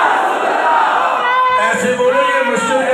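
A mosque congregation shouts a religious slogan back in unison, a loud burst of many voices that swells and then trails into scattered calls.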